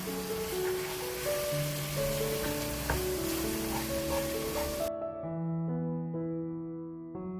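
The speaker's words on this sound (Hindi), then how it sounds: "अच्छा सा भुन गया है लहसुन अदरक और नमक के पेस्ट में।" A garlic-ginger paste with salt fries in a pan, making a steady close sizzle with occasional stirring scrapes for about five seconds before it cuts off abruptly, leaving only background music.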